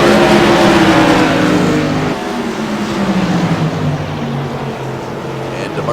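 Modified race cars roar past on the front stretch at Thompson Speedway, loud engine drone swelling then falling in pitch as they go by, under an excited commentator's voice.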